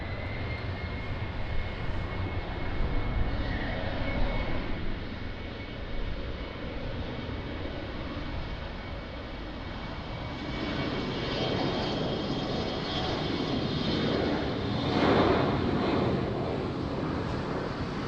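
A fixed-wing airliner takes off from runway 20 at Lisbon Airport: a steady, broad engine roar that holds for the full stretch and swells somewhat louder in the second half, with no voices over it.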